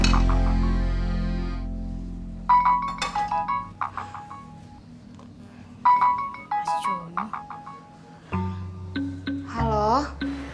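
A phone ringtone plays a bright, repeating electronic melody of plucky notes, loud and clear, with a short voice-like sliding tone near the end.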